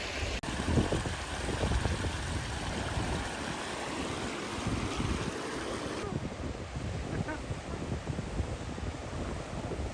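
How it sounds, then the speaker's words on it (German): A river flows through Swedish wilderness on the Kungsleden trail as a steady, broad rush of water that stays dense and unbroken throughout, fairly close and moderately loud, with no voices. "Schon, ne? Dieser Fluss."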